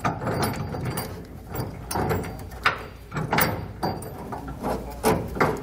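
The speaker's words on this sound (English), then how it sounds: "pull the bolt out a little bit, then start the threads." Nut being threaded onto a bolt while installing a B&W Companion 5th wheel trailer hitch on a 1996 Ford pickup: close metallic clicks and scraping taps, irregular and quiet, with a faint background hum.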